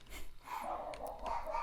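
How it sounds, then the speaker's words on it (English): Excited dogs bark and yelp somewhere off in the background during a Minecraft ATM10 modpack play session, muffled and fairly faint, several quick barks running through the short stretch. "Oh, I apologize for my dogs."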